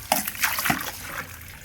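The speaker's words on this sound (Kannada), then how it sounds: "ನೀರು ತುಂಬ್ತಾ ಇದ್ದೀನಿ" Water is poured into containers on a farm, giving close splashes and sloshing bursts that settle into a softer trickle.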